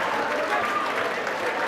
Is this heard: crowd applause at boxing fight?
yes